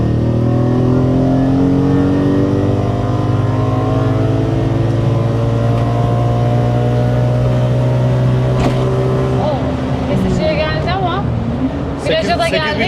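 A BMW E30 fitted with an E46 M3 engine revs up steadily with rising pitch, loud and close, then shifts and climbs again near the end.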